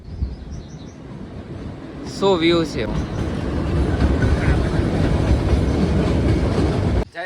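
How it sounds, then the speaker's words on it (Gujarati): A train rumbles past over the shrine at Rampara, building into a loud, continuous roar with rolling clatter that holds for several seconds before ending sharply. A person speaks briefly just as it arrives. "એની ઉપરથી ટ્રેન નીકળશે"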